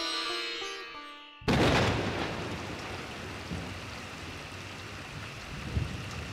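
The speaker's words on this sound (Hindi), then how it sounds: "ये बारिश।" Heavy rain bursts in abruptly after a short stretch of music, a dense steady hiss of downpour with a few low rumbles and occasional thumps, continuing without talk.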